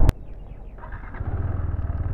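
A KTM 390 motorcycle engine runs with a steady, close low rumble on a ride in Assam. A brief sharp click comes right at the start, and no one speaks.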